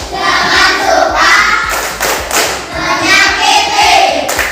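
Schoolchildren in a classroom clap a rhythmic pattern together, with quick bursts of hand claps and thumps in time, mixed with children's voices chanting along.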